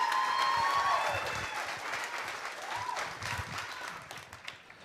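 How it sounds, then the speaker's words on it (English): Audience applause for a speaker at a real-estate masterclass finale in Orlando: a crowd claps steadily, loudest at first and then slowly thinning, with faint whistle-like tones at the start and a voice murmuring in the background. "Could we give a giant round of applause for Todd Schroth?"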